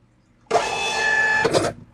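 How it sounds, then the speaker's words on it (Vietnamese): An Xprinter receipt printer runs off a test page in one steady mechanical whir of about a second, with a short buzzing burst near the end, heard alone and close. "Máy in của tôi đã in thành công."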